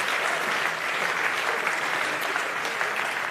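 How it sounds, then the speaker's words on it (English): An audience at an accelerator pitch night gives a big round of applause after a pitch, a dense, steady clapping from a crowd that holds evenly throughout at moderate loudness. "Big round of applause."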